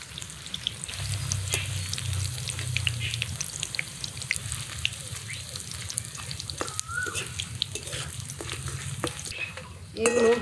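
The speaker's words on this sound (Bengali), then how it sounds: "প্রথম কড়াইয়ের বেগুনের পিসগুলো ভাজা হয়ে গেছে, নামিয়ে দিয়ে মিষ্টি কুমড়াগুলো ভাজবো।" Pumpkin pieces fry in a pan, a steady sizzle with intermittent scraping and tapping as they are stirred and turned, plus a low hum in the background.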